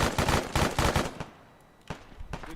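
Automatic gunfire in the military shooter game Arma 3: several rapid bursts of loud, close shots in the first second and a half, then a pause and two more isolated shots.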